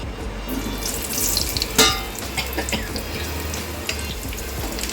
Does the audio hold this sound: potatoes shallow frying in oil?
yes